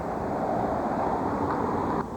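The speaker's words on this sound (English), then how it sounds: "Very windy." Strong wind buffeting the microphone during a severe storm in Florida, a continuous dense roaring rush with no talking, close and steady throughout.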